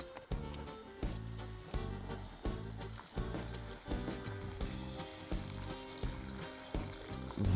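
Vegetables frying and sizzling in a pot for white borscht cooked over an open fire, a continuous crackling sizzle broken by regular clunks and scrapes of stirring, close and steady with no talking.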